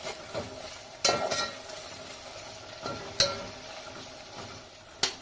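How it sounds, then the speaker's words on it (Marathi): Onion and garlic paste frying in a pan over high heat for an Agri Koli chicken dish: a steady, fairly quiet sizzle, broken by three sharp clinks of a spoon against the pan. "कांद्याची लसणाची आणि परत पेस्ट मी चांगली तळून घेते"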